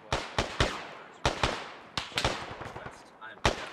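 Close gunfire in the Arma 3 military game: sharp individual cracks and short bursts arriving irregularly, loud and near, with gaps of a fraction of a second between shots.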